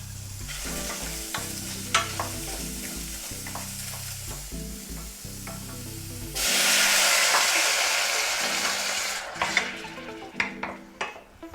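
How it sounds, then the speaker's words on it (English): Onions sizzle in a hot pan. Utensil clinks and stirring come first, then a loud, steady hiss of frying takes over, with a few more clanks near the end. "Listen to that sizzle."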